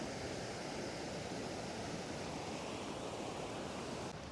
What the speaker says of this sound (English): capture maybe all 3 of these waterfalls, but definitely these 2